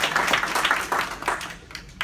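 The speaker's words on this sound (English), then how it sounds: "feel free to do a round of applause" Realty agents' audience at an honoring event gives a brief round of applause, a close, bright patter of many hands clapping that thins out toward the end.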